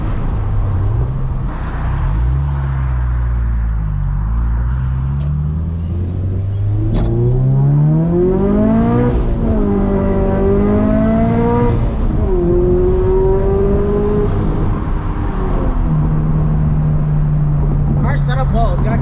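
A turbocharged Toyota 86 accelerates hard from inside the cabin with the windows down, its engine note climbing through several gears in rising sweeps with brief dips at each shift, loud and continuous, while a person speaks over it.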